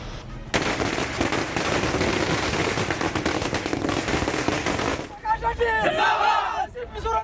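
Dense crackling bursts of firecrackers popping rapidly amid a loud celebrating street crowd in Hyderabad, then the bangs stop and voices continue.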